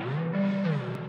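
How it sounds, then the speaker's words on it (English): Pitched-down flute playing a short, low sustained melodic line with a slight glide, dry and close, heard alone with no talking. "So the flute on its own sounds like this."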